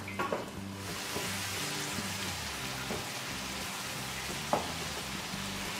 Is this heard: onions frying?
yes